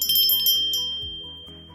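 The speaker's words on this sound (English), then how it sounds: "I loved the sound of that bell. It has a really pretty sound." A small bell bought at an estate sale rings with a few quick, bright, close strikes, and a clear tone fades away after them.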